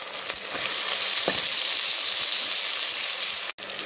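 Tomatoes hit a hot pan of onion, ginger-garlic paste and green chilies, giving a steady, close sizzle and frying hiss with a few stirring clinks, then a sudden brief dropout near the end.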